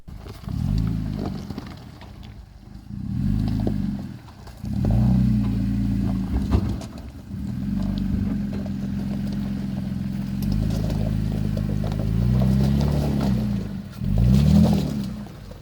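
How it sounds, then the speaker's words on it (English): A 2017 third-generation Toyota Tacoma TRD Off-Road with an MBRP turndown exhaust pulls hard on a highway, its engine and exhaust droning steadily and loudly with rising surges as it accelerates through the gears toward highway speed. "This is going to be a highway pull, accelerating up to about 70 miles an hour."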